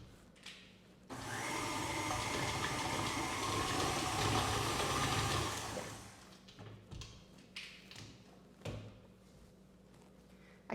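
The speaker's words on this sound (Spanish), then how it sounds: "Y vamos a batir nuevamente." An electric hand mixer whirs steadily for about five seconds as it beats green-tinted Christmas cookie dough, then cuts off, leaving faint kitchen clatter and a few soft knocks.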